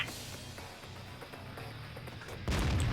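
Tank cannon fire in World of Tanks, with the AMX CDC in play: rumbling engine and battle ambience, then a sudden loud, heavy gun blast near the end that stays booming.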